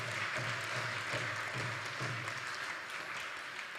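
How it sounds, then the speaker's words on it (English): Devotees at a Sunday temple program receive a round of applause: dense, even clapping from a gathered crowd that keeps a steady level throughout, with a faint low hum beneath it. "So let's give a big round of applause to these devotees."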